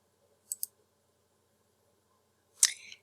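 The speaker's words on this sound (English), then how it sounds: "Let's just click into the Language Arts link" A computer mouse clicks on a website link with a quick double click, then one sharper click follows after a short silence in a quiet room.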